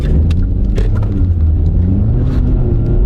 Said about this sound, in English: You kick that turbo kicks in.